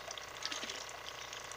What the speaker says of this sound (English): create a dripple of water